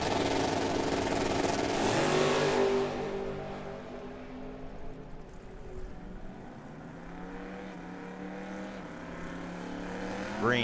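Mustang and Chevelle drag cars launch and accelerate down the strip at Firebird Raceway, a loud engine roar peaking early then fading into the distance, with crowd and announcer talk underneath as a second rev rises at the end.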